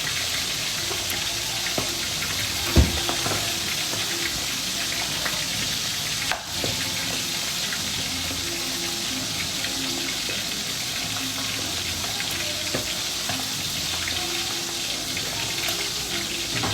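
Dried fish (daing) fries in a pan, a steady, even hiss of hot oil running unbroken at moderate loudness, with a couple of brief knocks and clicks along the way.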